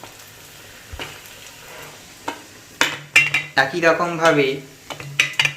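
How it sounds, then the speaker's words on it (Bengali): Battered onion fritters (piyaji) of gram flour are dropped into hot oil at a street food stall, with sizzling bursts and clinks of utensils against a pan; a voice speaks briefly near the end. "সবকটি পেঁয়াজিকে ব্যাটার থেকে গরম তেলে ছেড়ে দেওয়া হবে।"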